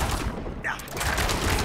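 Rapid shooting attacks in Diablo 4 form a dense, continuous burst of gunfire-like crackle and mechanical clatter, loud and close, with a voice briefly over it.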